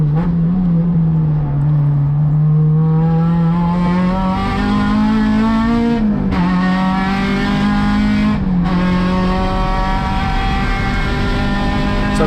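Acura RSX-S race car at full throttle at Sonoma Raceway, a loud close engine howl that climbs steadily in pitch, with two brief cuts where the note drops as it shifts, then pulls again.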